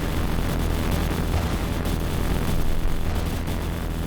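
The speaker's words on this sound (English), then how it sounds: "Yep, explosions." Explosions in the video game Tower Battles, a loud, dense, continuous rumbling roar with deep low end that holds steady throughout, with no talk.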